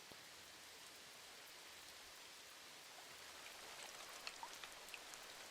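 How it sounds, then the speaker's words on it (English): Generative rain from the video game No Man's Sky, a steady soft hiss of falling drops on surfaces near a building, with faint scattered pitter-patter ticks growing slightly denser toward the end. "Start playing different rain if I'm close to a building."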